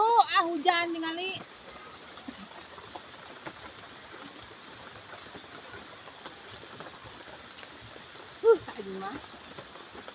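Steady hiss of rain falling outdoors, soft and continuous under brief bursts of talking at the start and near the end.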